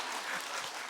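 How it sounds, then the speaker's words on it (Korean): Church congregation claps in a brief, soft burst of applause, a dense patter heard at a distance. "박수까지 받았는데"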